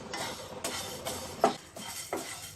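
Moong dal, urad dal and cumin seeds dry-roasting in a pan for sambar powder, stirred with a utensil that gives soft, repeated scrapes and clinks every half second or so, fairly quiet and without talk.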